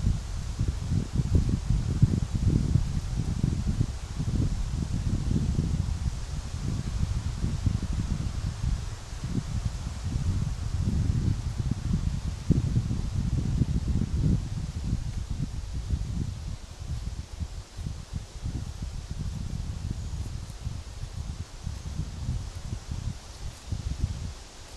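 Strong gusting wind outdoors shakes and rustles foliage in a continuous, fluctuating roar with heavy low buffeting against the microphone, nearly steady throughout.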